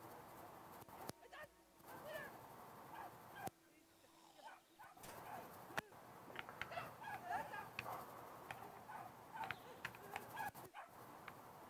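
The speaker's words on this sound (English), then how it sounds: "That's a cute little puppy dog. That's a nice looking dog." A puppy yips and barks in a video game, with short bright calls scattered across the clip over a busy layer of game sounds and background noise at moderate level.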